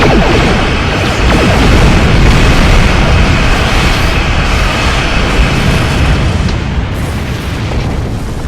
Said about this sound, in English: give him some torpedoes